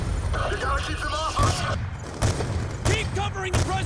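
Gunfire in a Call of Duty Black Ops 2 battle comes as repeated bursts and impacts under shouted voices and dense combat noise.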